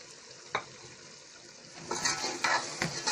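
Cream is stirred into a sizzling chicken white karahi, with a soft, quiet fry under several sharp scrapes and clinks of the spoon against the pan that come close together in the second half.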